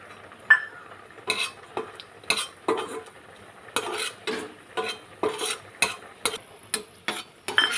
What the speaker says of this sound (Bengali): ওপরে ছড়িয়ে দেওয়ার জন্যে এই আলমন্ড বাদামটা একটু ভেজে নেবো